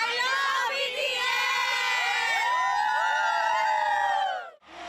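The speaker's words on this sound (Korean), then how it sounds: "응원봉 물결과 함성이 공연장을 가득 채웁니다" A concert crowd waving light sticks lets out loud, sustained cheering and high-pitched shrieks, a dense wall of voices that carries on for several seconds before cutting off abruptly.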